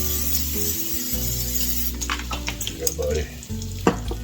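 Burgers sizzle steadily in a hot non-stick pan with spatters and scrapes, while someone speaks briefly over the frying.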